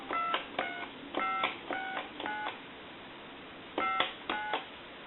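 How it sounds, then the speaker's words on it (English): A Spirit of St. Louis speakerphone telephone dials a number in DTMF touch tones. About eight crisp beeps sound in two quick groups, separated by a short pause, over a faint hiss. "I'm going to dial my number."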